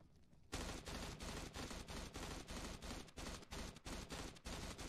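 Bursts of gunfire from a gun in burst mode in the PUBG Mobile game, loud, dense rapid shots in repeated short volleys that start abruptly and continue without pause.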